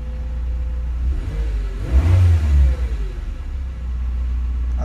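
A Nissan GA13 engine runs steadily after repair of a no-spark, no-start fault, with a low, close idle rumble that briefly swells into a rev near the middle before settling back to an even idle.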